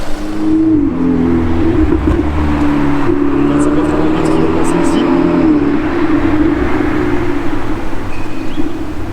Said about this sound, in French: je vois une nouvelle voiture, une nouvelle Ferrari qui est arrivée là-bas